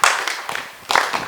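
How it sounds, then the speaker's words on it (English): A burst of hand clapping from a small group, loud and close, fading briefly before a second wave of claps. "you should also clap for"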